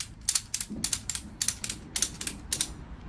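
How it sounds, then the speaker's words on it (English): A ratchet strap is cranked tight in a quick run of sharp, close metallic clicks, about a dozen evenly spaced ratchet strokes heard alone. "See how much I'm ratcheting that to get it tight?"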